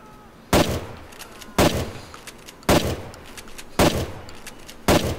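Police gun from a Grand Theft Auto IV mod fires five sharp, loud shots, evenly spaced about a second apart, over a quiet background.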